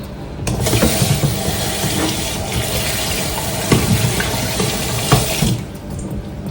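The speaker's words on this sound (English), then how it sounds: "So I'm gonna wash the strainer and go again." A juice strainer from making pineapple cherry juice is rinsed under a running kitchen tap, a loud steady rush of water lasting about five seconds with small splashy changes as the strainer moves beneath it.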